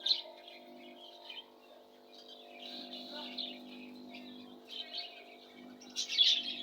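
Small cage birds, including budgerigars, lovebirds, cockatiels and diamond doves, chirp in a pet bird shop. The high tweets are scattered and fairly faint over a quiet indoor hum, with one louder burst near the end.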